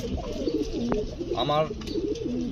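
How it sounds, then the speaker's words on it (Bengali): Satin pigeons coo softly nearby in low, throaty murmurs amid faint background noise. "আমার এই বুলি শাটিনটি অনেক সুন্দর একটি কবুতর"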